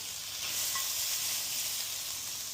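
Tomatoes fry and blister in a hot pan, giving a steady close sizzle and hiss with a faint pop or two and no talking.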